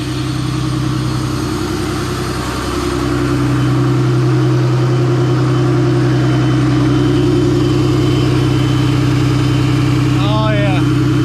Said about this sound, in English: that's how it's supposed to sound when you turn on the kicker